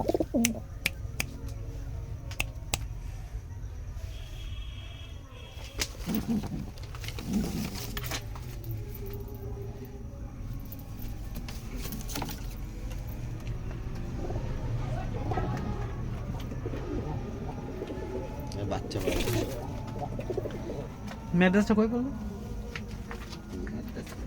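Soft coos from Giribaz pigeons in a loft repeat at intervals among other bird sounds, over a steady background hum and some indistinct voices.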